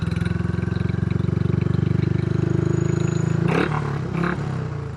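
A Royal Enfield California Goan 411 motorcycle idles with a deep, evenly pulsing exhaust thump, close and steady, then briefly shifts as other noises cut in near the end.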